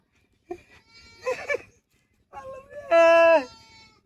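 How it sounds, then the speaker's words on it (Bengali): A goat bleats a couple of times, one short cry then a longer loud wavering bleat, close by, with a brief voice earlier. "ছাগলটা গেল কই"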